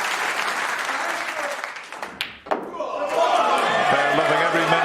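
A Crucible snooker crowd applauding Ronnie O'Sullivan's back-to-back centuries, a dense burst of clapping that briefly dips before swelling again, loud and sustained, with some chatter mixed in.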